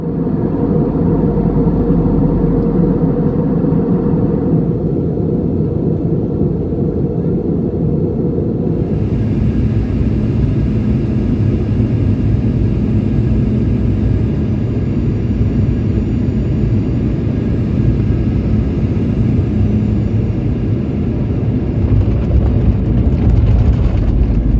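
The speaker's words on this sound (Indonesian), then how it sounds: "sekarang kita mau naik pesawat ya" Steady, loud broadband rumble of an airplane cabin during a commercial flight to Malang, a continuous engine and airflow drone with no talking.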